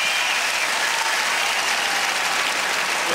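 Steady, dense applause from a tennis crowd at a 2005 match between Coria and Ginepri, loud and continuous throughout with no break, like a stadium full of clapping hands.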